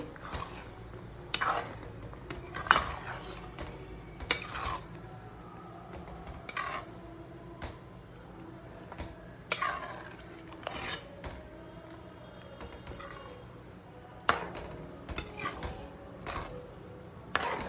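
Tamarind water is stirred into a bitter gourd curry in a pot, with close, intermittent scraping and rubbing of a spoon against metal, occasional sharper clinks and faint liquid sloshing, quiet overall.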